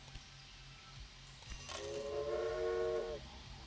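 A steam-style whistle from a train dispatched in the video game Railway Empire blows for about a second and a half over soft ambient game sounds, moderately loud and steady before cutting off.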